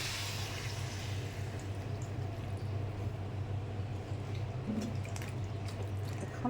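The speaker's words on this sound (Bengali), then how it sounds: "পরিমাণ মতো জল" Water poured into a cooking pan of capsicum seasoned with salt and turmeric, a steady continuous wash and gurgle with a low hum beneath, close and even throughout with no talk.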